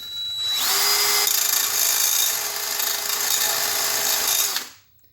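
Abrasive power tool grinding a line into a dirt bike brake rotor, a loud high whine and harsh gritty hiss that spins up, holds steady for about four seconds, then winds down to silence, close and without talk.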